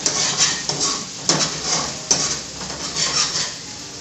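Gizzard pieces dropped into a pan of olive oil, with a few clinks and scrapes of utensil against the pan over a hissing sizzle, close and moderately loud.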